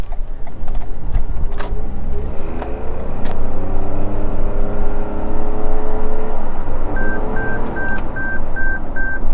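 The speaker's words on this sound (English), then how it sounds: "the lane departure warning works because I was like slightly outside the line, so it started beeping" A steady series of short, high electronic lane departure warning beeps sounds over continuous engine and road noise inside a moving 2021 Toyota Yaris Cross Hybrid with a 1.5-litre three-cylinder engine.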